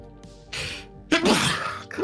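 A person sneezes twice, close and loud: a sharp breathy burst, then after a pause a second, stronger one, with a brief start of a third near the end under quiet background tones.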